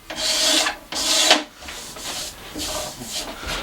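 Old finish is scraped off the body of a vintage Silvertone Jupiter guitar in long rasping strokes, two loud pulls followed by several lighter scrapes, close up with no talk.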